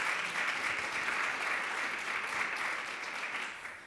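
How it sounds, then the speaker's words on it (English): A crowd at a life-and-legacy celebration applauds Reverend Best, a thick, even roar of many hands clapping at once, sustained and fairly close, tapering slightly at the close. "let's give Reverend Best another round of applause"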